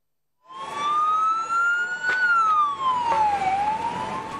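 Fire engine sirens respond to a lumber fire at night in Bingöl: a loud, close wailing tone that sweeps slowly up and then down, starting abruptly after a brief silence and continuing throughout.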